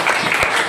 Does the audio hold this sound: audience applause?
yes